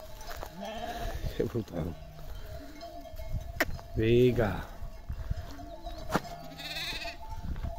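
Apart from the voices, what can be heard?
sheep and lambs bleating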